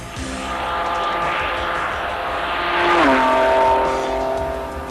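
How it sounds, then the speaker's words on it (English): A Jaguar XJ220 sports racing car engine revs up, its harmonic whine climbing steadily, dipping at a gear change near three seconds, then pulling loud and close again. "For the first time for 20 years, a completely new sound from Jaguar."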